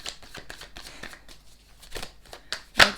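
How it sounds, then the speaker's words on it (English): Tarot cards shuffled by hand in a series of quick, soft riffling flicks and taps, close and fairly quiet, ending in a sharper, louder snap of the deck. "And we're just gonna continue shuffling."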